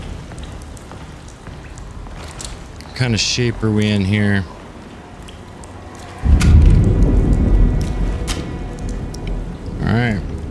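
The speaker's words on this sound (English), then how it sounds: "of course, now look, we are in a storm." Storm noise in the video game Alone in the Dark: steady rain hiss with a heavier rumbling surge midway, while someone talks over it in two short bursts.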